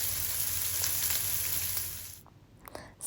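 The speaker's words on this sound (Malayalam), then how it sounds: "ഉപ്പ് ചേർത്ത് വഴറ്റിയെടുക്കുക" Onions and chopped ingredients sauté with salt in a hot pan, giving a steady, close sizzle for about two seconds before it drops to quieter crackles and a stir.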